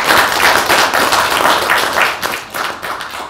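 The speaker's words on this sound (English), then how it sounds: "And for that, give yourselves a round of applause." An audience gives a round of applause for interns at a civic engagement and voter turnout policy research event. The close, loud clapping is busy and crackling, with uneven swells before it thins slightly near the end.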